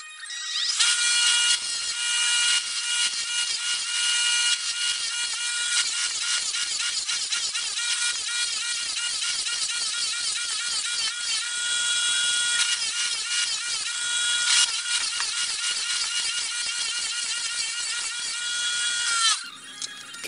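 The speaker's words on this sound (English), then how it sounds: "And then I go over it with the grinder." A grinder works the edges of a handmade knife blade during knife making, a loud continuous high-pitched grinding whine with rapid scraping pulses that runs steadily for about twenty seconds before cutting off.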